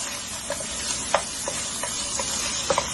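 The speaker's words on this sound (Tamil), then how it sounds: "நல்லா இதை நெய்யில வறுத்து எடுத்துக்கிறோம்." Chicken roasts in ghee with a constant soft sizzle, and a spoon scrapes and taps the pan in irregular light clicks as it is stirred.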